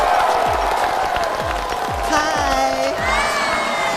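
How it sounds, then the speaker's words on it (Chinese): A studio audience at a Chinese stand-up comedy show claps and cheers loudly as a comedian is called to the stage, a dense crowd roar with whoops and shouts running the whole way through. "掌声有请我们的大盘"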